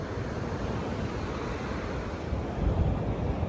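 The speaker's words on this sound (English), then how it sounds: "So we are going to enjoy the beach." Ocean waves wash continuously onto a beach at St. Augustine, Florida, a steady roar of surf with a slightly louder surge near the end, no voices.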